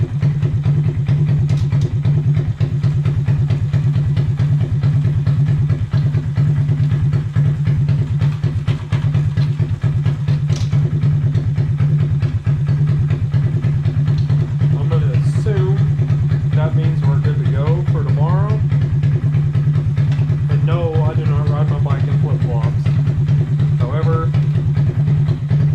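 A Honda Grom motorcycle engine runs steadily in gear with the clutch out, a loud continuous low hum and clatter close by, while a person talks over it in the later part.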